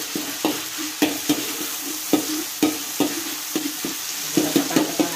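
Spatula stirring green beans and minced meat frying in a pan, with repeated sharp scraping strokes in an irregular rhythm over a steady close sizzle.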